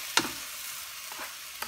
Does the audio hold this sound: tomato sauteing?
yes